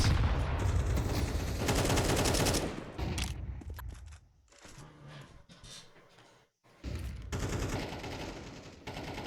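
Rapid bursts of rifle fire in Counter-Strike on the Ancient map, loud sustained volleys that drop out briefly before another close burst resumes.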